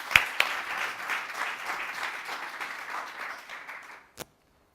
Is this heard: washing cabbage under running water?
no